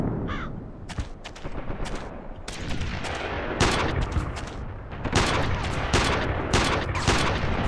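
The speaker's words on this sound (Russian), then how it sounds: "Куда эта пушка шмаляет, не пойму." Cannon and gunfire in the PC shooter Iron Storm, a series of sharp loud blasts and bursts spaced irregularly over a dense battle background, with no talk over them.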